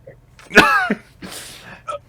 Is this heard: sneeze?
yes